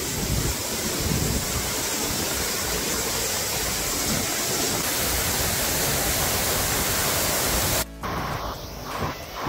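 Can-Umantad Falls in Bohol pours down in a loud, dense, steady roar of falling water that stays close and fills the scene, cutting off abruptly near the end.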